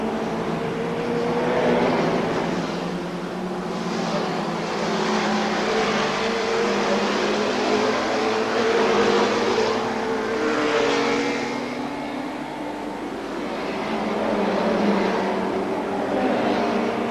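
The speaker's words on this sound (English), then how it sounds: "You're about to witness the finish of one of the most exciting, unbelievable motor races you've ever seen." Racing cars near the finish of the 1982 Castrol 6 Hour motor race drone loudly and continuously, engines rising and falling as they sweep past, with no voices.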